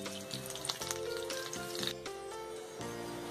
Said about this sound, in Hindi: ये दोनों तरफ से अच्छी तरीके से फ्राई हो चुका है। अब हम इसे निकाल लेंगे। ये बहुत जल्दी फ्राई हो जाता है